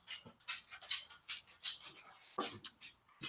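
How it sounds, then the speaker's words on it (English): Dogs fighting and whimpering nearby indoors, a rapid series of short whines, yelps and panting bursts, fairly close and unbroken by talk. "Sorry, I got dogs fighting behind me."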